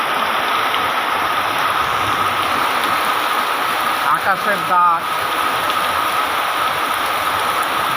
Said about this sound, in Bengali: বাতাস এবং বজ্র দুটোই নাই, তবে বৃষ্টি মুষলধারে পড়ছে।